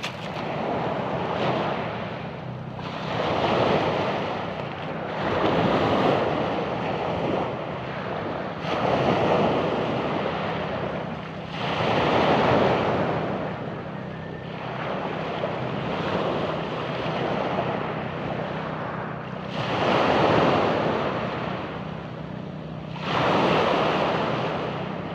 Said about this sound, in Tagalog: maalon dito sa barangay namin